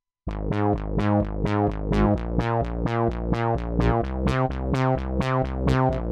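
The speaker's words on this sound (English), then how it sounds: "let's listen to the original bass track with the stereoized track." A bass guitar plays a steady repeating line with a shimmering, widened chorus layer, loud and alone with no voices.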